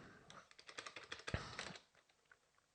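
Quick typing on a computer keyboard, a rapid run of light clicking keystrokes close by and quiet, tapering into a few scattered final taps.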